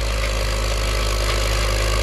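A 225 CVX tractor engine runs at low revs with a loud, steady low-pitched diesel drone and constant rumble, close by and uninterrupted.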